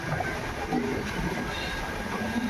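A Lucknow Double Decker passenger express rumbles steadily around a curve, its wheels clattering on the track in a dense, continuous roar from close aboard.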